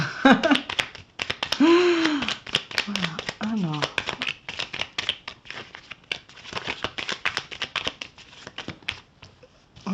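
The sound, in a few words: shuffling tarot cards, a card jumping out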